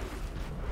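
A rocket explosion in the battle-royale game Fortnite, heard as a steady, broad rumbling roar that fills the whole short moment without a distinct onset, loud and close, with no voices.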